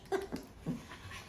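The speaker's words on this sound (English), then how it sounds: "there's too much excitement here with all these dogs" Excited dogs in a busy house give short panting breaths and soft whimpers, several quick close bursts in a quiet setting.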